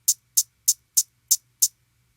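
Hi-hat sample from a drum kit in a trap beat: six crisp, bright ticks evenly spaced about a third of a second apart, dry and isolated over a faint low hum.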